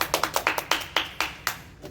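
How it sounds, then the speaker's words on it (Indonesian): A small group of schoolchildren claps for a classmate in a classroom, about ten quick, uneven claps close by and fairly loud, tapering off at the end. "Tepuk tangan untuk Kaila."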